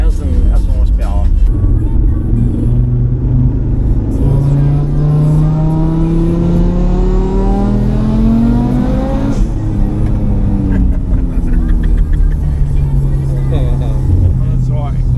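A 1000 hp Audi RS3 street car accelerates hard in third gear, its loud engine climbing steadily in pitch as boost builds and then dropping with a gear change, while people talk over the roar.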